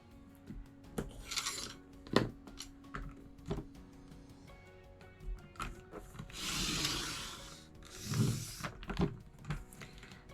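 Paper strips are cut by hand with scissors for a packaging craft, giving close, irregular snips and rustling paper rubs with short pauses between cuts, no talking.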